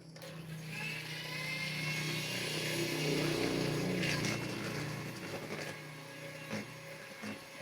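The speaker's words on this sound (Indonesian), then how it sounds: "kita mixer kembali ya" Electric mixer whirring through omelette roll batter, a steady close motorized hum with faint clinks against the bowl, easing off near the end.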